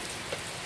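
Rain falls steadily outdoors around a hovering Tarot six-rotor hexacopter during a test flight, a dense continuous hiss with no talk, fairly close and even in level.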